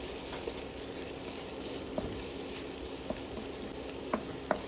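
Onions sizzling and frying steadily in a pan with spices such as pepper and ground cardamom, a constant close hiss broken by a few faint stirring clicks.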